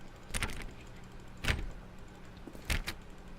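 Door in The Stanley Parable being clicked repeatedly, three sharp mechanical clicks spaced about a second apart, close and clear over a low background hum.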